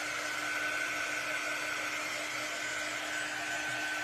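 Hair dryer blowing over glitter-covered holiday trees, a steady, continuous whoosh held at one pitch throughout without pause.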